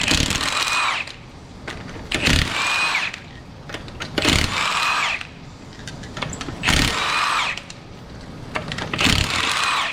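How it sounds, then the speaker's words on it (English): Five 19mm lug nuts coming off a 2013 Honda Crosstour wheel, an impact tool whirring loudly in repeated bursts of about a second each, roughly every two seconds, close up with no talking. "first step is obviously going to be to remove the wheel. These are held on with 5 19mm lug nuts."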